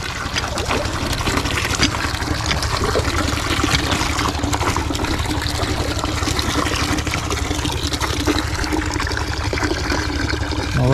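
Irrigation water gushes steadily and strongly for the whole stretch, a dense continuous rushing close by with no break, and no clear talk over it.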